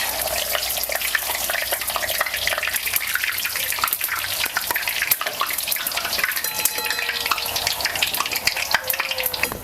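Kadakani frying in hot oil, a continuous sizzle dotted with sharp crackles and pops, close and steady throughout with no voices.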